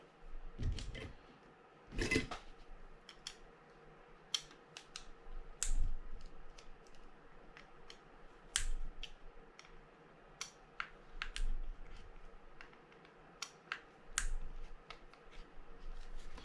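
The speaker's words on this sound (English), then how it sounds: "I'm going to loosen these screws and drop that assembly out" Screws loosened on a Penn 230 GTO levelwind fishing reel make small, sharp metallic clicks and ticks, close and quiet, scattered irregularly across a hushed background.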